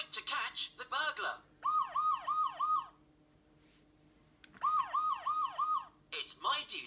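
A Vtech Toot Toot toy police car sounds its electronic siren in two short bursts of rapid warbling wails, separated by a quiet pause, with brief toy voice snippets around them.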